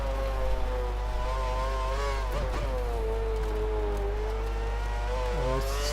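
Lotus Formula 1 car in the racing game F1 2013 at the German round, a steady high engine whine that holds near one pitch with small dips and rises while cornering, loud and continuous with nothing else over it.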